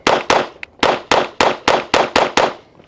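A SIG Sauer P322 .22 pistol fires nine sharp gunshots at a quick, fairly even pace, loud and close, each crack trailing off briefly before the next, with no talking.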